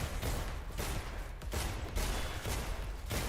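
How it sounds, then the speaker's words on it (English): Magnum revolver fire in the sci-fi shooter Selaco: a series of sharp, heavy gunshots spaced under a second apart, each with a broad crack and short echoing tail, fairly quiet in the overall mix. "Yeah, the Magnum's a lot of fun."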